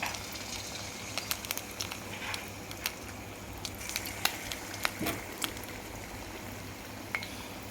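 Bonda batter made from maida and wheat flour frying in hot oil, a steady close crackle and sizzle with scattered sharp pops and spatters throughout.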